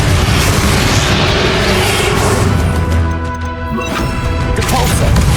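A loud, booming fire-spell explosion from the Hogwarts Legacy video game, shown as a dense, sustained roar with crashing debris during a final boss fight, followed by a short dip and a renewed rumble.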